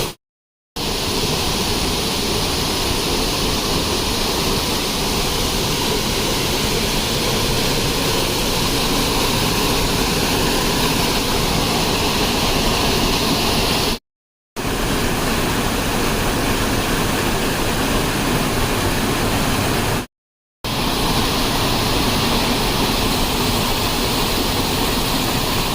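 A small waterfall on the trail to Chilandhiyar near Vattavada, a constant broad roar of falling water that stays loud and unbroken, with a couple of brief cuts of silence and no one talking.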